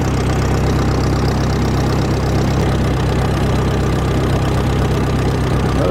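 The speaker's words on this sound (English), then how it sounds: "This is quite a unique tractor here with the Fergie diesel" A Ferguson diesel tractor engine runs steadily during a ploughing competition, a loud, close, knocking idle-like rumble that continues without a break and with no talk.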